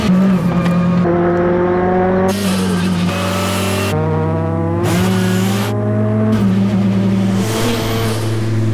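A Lynk & Co race car laps the Nürburgring at full pace, its engine screaming up through the gears with sharp pitch drops at each shift, loud and close throughout.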